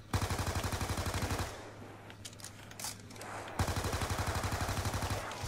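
Rapid automatic gunfire from shooting zombies in Black Ops 2, loud bursts of evenly spaced shots for about a second and a half, a pause with faint game sounds, then another sustained burst.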